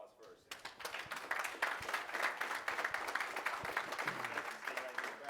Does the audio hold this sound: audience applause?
yes